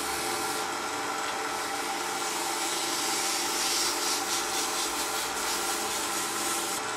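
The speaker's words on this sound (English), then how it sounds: "I'm going to sand it down," Sandpaper rubs steadily against a turned wooden piece spinning on a lathe, a constant loud abrasive hiss over the lathe's hum with no pauses and no talking.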